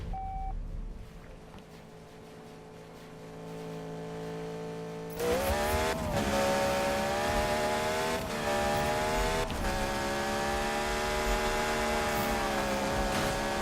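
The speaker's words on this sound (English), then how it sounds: "This car just sounds really nice." Race car engine in the Need for Speed video game, starting with a quieter idling drone before a sharp jump into loud, sustained high revving with rising and falling pitch as gears shift, with no talk.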